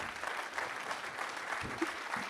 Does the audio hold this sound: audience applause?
yes